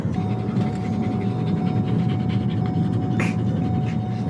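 Rapid, heavy panting from excited dogs fills the clip continuously, close up, over a low vehicle rumble and a faint steady tone.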